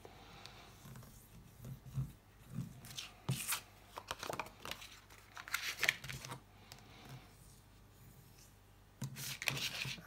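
Paper or card is scored along fold lines for a V-shaped wallet, a quiet close scraping and rubbing in short, uneven strokes separated by pauses.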